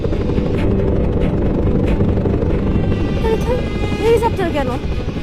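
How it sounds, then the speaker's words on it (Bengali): A helicopter sound effect in a drama scene: a loud, steady rotor drone with rapid chopping pulses, fairly close, with a few brief tonal chirps toward the end. "হেলিকপ্টার কেন?"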